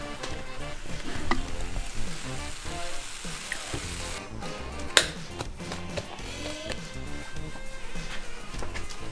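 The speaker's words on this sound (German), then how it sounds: "Ich habe das Gefühl, mein Burger wird hart da in der Pfanne." A burger sizzles steadily in a frying pan in a home kitchen, with continuous close frying hiss broken once by a sharp tap and no talking.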